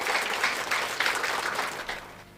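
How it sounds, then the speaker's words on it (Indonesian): A church congregation claps in a brief, lively burst that lasts a couple of seconds and then fades. "Tepuk tangan yang meriah buat Tuhan."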